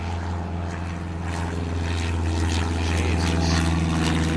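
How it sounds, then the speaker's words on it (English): Low-flying propeller airplane passing right overhead, a loud, steady droning roar that swells slightly as it nears, heard outdoors on a farm with no talk. "There was a plane somewhere up there."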